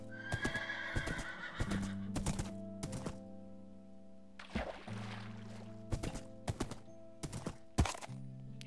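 A horse in the Minecraft video game clip-clops along with irregular hoof thuds, neighs and whinnies, with a steady game hum underneath and no talking.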